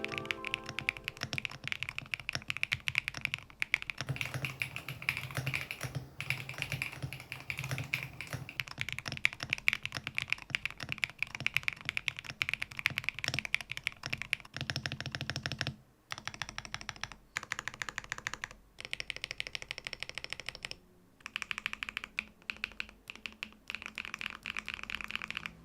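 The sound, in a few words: mechanical keyboard typing, creamy thocky sound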